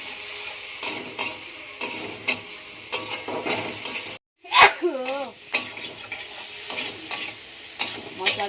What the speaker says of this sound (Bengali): আমার কিন্তু সেদ্ধ আলু হলেও কিন্তু আলুটা খুব সুন্দরভাবে ভাজা হয়েছে